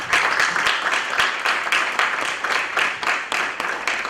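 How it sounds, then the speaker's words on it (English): An audience at a financial health talk applauds the presenters, a moderately loud round of clapping with some distinct individual claps standing out through the wash. "Let's give them a round of applause."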